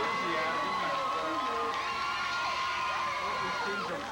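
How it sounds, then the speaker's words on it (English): Large crowd at a 1990 Washington vs Tech night football game, a broad, continuous roar of cheering and shouting that stays loud throughout, with a commentator talking over it. "Got a big crowd, Scotty, a lot of enthusiasm."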